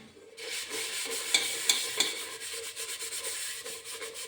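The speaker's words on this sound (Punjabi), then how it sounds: "ਆਪਾਂ ਜੀ ਹੁਣ ਸਕਰੱਬ ਦੇ ਉੱਤੇ ਨਾ ਬੇਮ ਪਾਵਾਂਗੇ ਥੋੜੀ ਜਿਹੀ ਬੇਮ ਪਾ ਕੇ ਤੇ ਫਿਰ ਇਹਨੂੰ ਆਪਾਂ ਚੰਗੀ ਤਰ੍ਹਾਂ ਨਾਲ ਕਲੀਨ ਕਰਕੇ ਦਿਖਾਉਂਦੇ ਹਾਂ ਤੁਹਾਨੂੰ" A burnt milk and tea pot scrubbed with a scrubber and Vim, a continuous close gritty rubbing with three small knocks in the middle, steady and alone.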